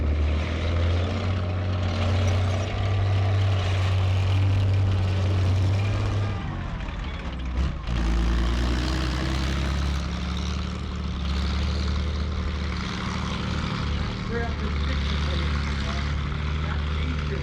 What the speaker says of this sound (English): you can hear that Nuffield Liberty engine wasn't that reliable.